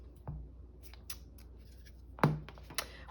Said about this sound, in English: I'm going to cut a thing now